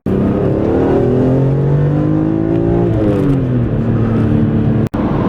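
A BMW E46 M3 engine pulls hard with a loud, steady rising drone that dips briefly as it shifts near the three-second mark. It then climbs again and cuts off abruptly just before the end, with no voices.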